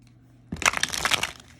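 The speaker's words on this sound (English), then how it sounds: "One more good shuffle here." A deck of tarot cards being shuffled, a short burst of papery riffling and crackle starting after a near-silent moment, close and brief, with no talking.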